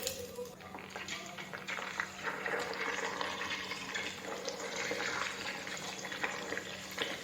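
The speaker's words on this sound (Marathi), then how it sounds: "पाणी घातल्यावर अगदी तडतड आवाज येतोय" Drops of cold water hit hot, freshly made clarified butter (ghee) in a pan, setting off a steady, close sizzling crackle that continues throughout.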